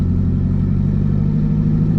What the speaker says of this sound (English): This is my first turbo car.